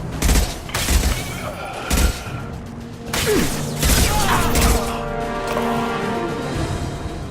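Video game gunfire from mercenaries shooting anything that moves, heard as loud, dense volleys of shots and heavy impacts that rattle out in bursts, then trail into a sustained mechanical roar and ringing tones.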